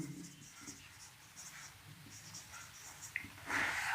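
Chalk scratches across a classroom board in short strokes for a maths lesson on matrices, partly under a teacher's talking.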